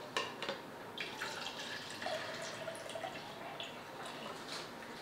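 Water runs into a measuring cup as 225 ml is poured for a fruit tea drink. The trickle and drips are faint and continuous, with a few small clinks.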